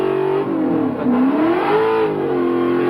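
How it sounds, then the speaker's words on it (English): A supercharged Windsor V8 in a car at Summernats revs hard and continuously, its pitch rising and falling in loud, close, throaty sweeps with no pause. "Supercharged little Windsor engine, built by Gary himself"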